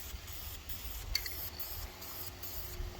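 Steady hissing spray from an aerosol can of engine enamel painting a 440 engine, broken by brief pauses in short repeated bursts, close by with no talking.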